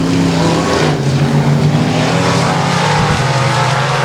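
Dirt track race car, the Mopar number 88, accelerating hard at Texarkana 67 Speedway, its engine roaring loud and steady close by for the whole stretch.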